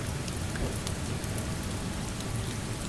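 Steady rain falling, a dense even hiss of drops with faint patters and no pauses, moderately quiet and continuous.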